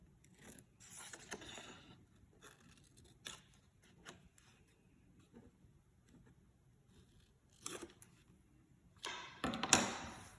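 Scissors snip the corners of a junk journal page in a few short, quiet cuts spaced across a hushed room, with a louder rustling burst of paper handling near the end.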